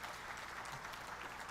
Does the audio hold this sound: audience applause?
yes